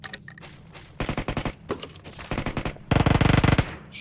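Rapid automatic gunfire from players fighting in the PUBG Mobile video game rattles in dense bursts, the loudest sustained volley coming near the end, close and aggressive throughout.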